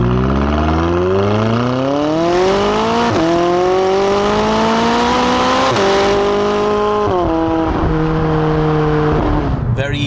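A McLaren 570GT sports car engine revs hard and climbs through several gear changes, pitch rising in repeated surges before easing off at the end.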